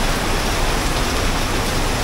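Rain falling heavily, a dense continuous hiss of downpour on surfaces, loud and close, with nothing else standing out.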